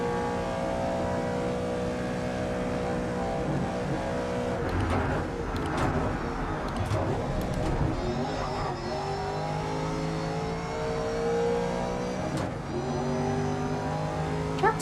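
Race car engine revving hard in the video game Grid Legends, with crackling exhaust backfire pops under a loud continuous engine drone and gear-change swells throughout.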